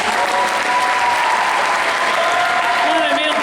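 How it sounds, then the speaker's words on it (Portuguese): An audience at an Ignite talk event applauds the women who took part, with dense, steady clapping filling the room and a voice faintly underneath. "Pedi uma salva de palmas para elas."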